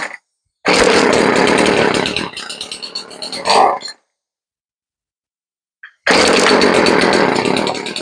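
A STIHL FS36 string trimmer's small two-stroke engine roars loudly at close range, sputters and dies, then after a few seconds of silence fires again and runs hard.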